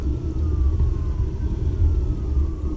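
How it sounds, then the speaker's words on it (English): Faint sirens wail somewhere far off, their pitch slowly sliding, over a steady low rumble of wind and background noise. "There's some sirens down there and"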